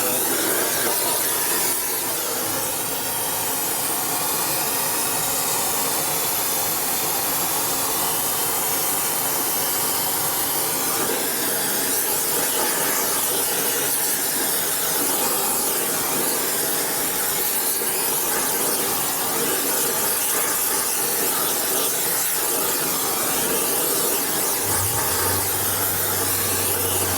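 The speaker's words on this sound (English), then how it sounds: "Burning the solvent off the inside." Torch burning solvent off the inside of a 1972 Harley-Davidson Ironhead Sportster XL engine case during repair: a loud, steady roaring hiss that runs on continuously and alone, with a slight shift near the end.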